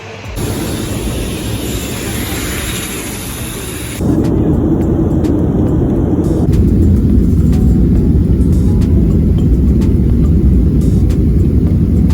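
Outdoor ambience at Sultan Abubakar International Airport in Sokoto is a loud, continuous low rumble. It steps up in level partway through and then holds steady, with no talking.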